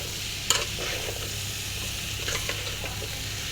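Liver being stir-fried in a pan sends up a steady close sizzle, with a sharp spoon knock at the start and soft scraping stirs throughout.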